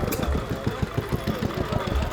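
Old stationary engine running at an outdoor classic car show, chugging in a steady, quick rhythm of low thumps, fairly close and moderately loud beneath background crowd noise.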